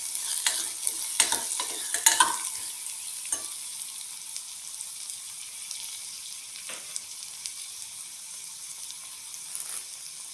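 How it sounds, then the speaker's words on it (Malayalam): Ingredients for drumstick soup are sautéed in a pan, with a soft, steady sizzle under a few clinks and scrapes of stirring near the start, then a quieter frying hiss. "നന്നായിട്ട് വഴറ്റിയെടുക്കണം."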